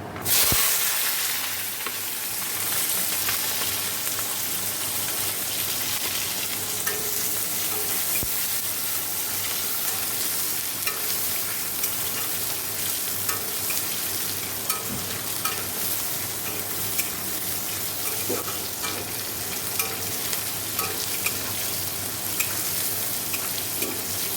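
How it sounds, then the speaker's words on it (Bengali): Potatoes fry in hot oil with a tempering of cumin, nigella seeds and dried red chillies, giving a loud, constant close sizzle with occasional stirring and no talk. "দেখো আলুটাও ভাজা হয়ে গেছে এখানে ফোড়ন দিয়ে দিয়েছি সাদা জিরে কালো জিরে শুকনো লঙ্কা"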